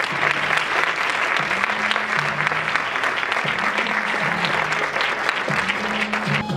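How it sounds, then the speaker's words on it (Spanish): Audience applause at a women's council inter-association event on stage in Fuenlabrada, steady, dense clapping filling the room throughout, with a low musical tone drifting underneath. "Por favor, un aplauso para ella."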